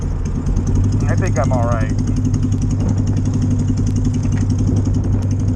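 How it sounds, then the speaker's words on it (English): A motorcycle engine idling slightly rich, a steady close-up rumble running throughout while someone speaks briefly over it. "I gotta do the idle speed on this because I'm running a little bit rich."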